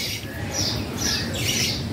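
Birds perched together on a branch, parents with their chicks, squawk in repeated harsh bursts over a dense, noisy background.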